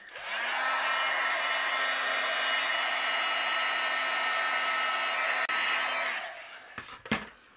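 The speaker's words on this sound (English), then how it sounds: "I'm going to use my heat gun, and we're going to melt the embossing powder on these acetates." A heat gun melts embossing powder on acetate sheets, giving a steady, loud whooshing roar for about six seconds before cutting off, followed by a couple of brief handling knocks.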